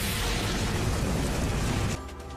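A fire-style fireball jutsu blast from Naruto Shippuden roars as a loud, dense, continuous rumbling burst for about two seconds, then cuts off abruptly to a quieter, hissing tail.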